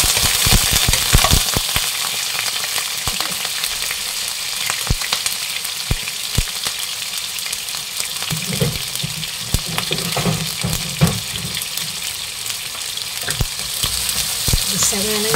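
Lumpia shanghai deep-frying in hot oil gives off a steady, dense crackling sizzle with scattered sharp pops and brief bubbling surges, close and continuous throughout without talk.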